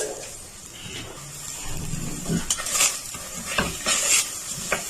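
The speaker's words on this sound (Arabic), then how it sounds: "انا كنقليها بسم الله واحد الربيع تقريبا ديال زيت الزيتون، ربيع الكاس" Ingredients fry in a small pour of olive oil in a Moroccan home kitchen, giving a soft sizzle with scattered clinks and scrapes of a utensil against the pot that grow livelier toward the end.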